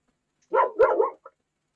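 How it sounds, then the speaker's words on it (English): Dogs bark in a short burst of two or three sharp, close barks with a brief yip at the end, heard alone against near silence. "You're surrounded by dogs out there."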